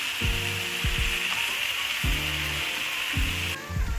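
Fried, boiled potatoes go into a pan of sizzling rui fish heads for a Bengali ghonto, giving a loud steady hiss of frying broken by several rhythmic scraping, ratcheting strokes of a spatula.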